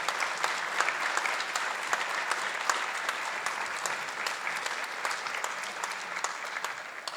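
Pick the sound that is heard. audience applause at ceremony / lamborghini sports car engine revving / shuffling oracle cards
audience applause at ceremony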